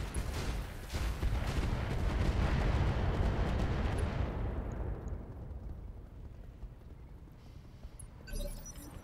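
Gunfire and explosive blasts during a convoy ambush mission in a video game: a dense, loud burst of shots and booming impacts that fades into a quieter tail, with a sharp crack near the end.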